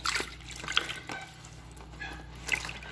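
Paprika-tinted water drains off a smoked duck in soft, faint trickles and drips, close up and scattered unevenly over a few seconds.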